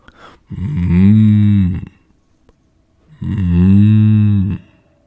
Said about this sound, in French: Les 2 bêtes, qui avaient travaillé durement toute la journée, se mirent alors à meugler.